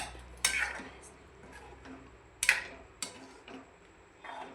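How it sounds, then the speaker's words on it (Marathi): A spoon stirs boiled drumstick pods into masala in a pan, giving a few sharp metallic scrapes and clinks against the pan at irregular intervals, close but fairly quiet, with soft sizzling between them. "या शेंगा अशा या मसाल्यामध्ये मिक्स करून घ्यायच्या"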